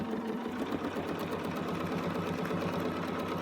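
Home sewing machine stitching fabric close by, a steady fast mechanical whir with rapid needle chatter running the whole time, no talking.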